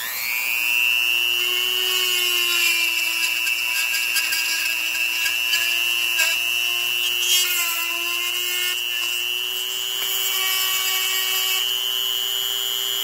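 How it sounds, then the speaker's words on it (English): Pin stock pulled from a spool being trimmed with a small power tool for making custom lock pins, a steady high whine running continuously and close throughout, with no talking. "I'm going to trim off the end and cut it down short."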